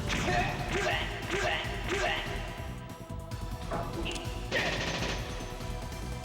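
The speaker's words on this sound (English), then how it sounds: "Let's have Fist Puncher shoot them with his gun." Gunshots in Revelations: Persona on PS1, a burst of several sharp game shots in quick succession followed by further impact sounds, all mixed with steady game sound.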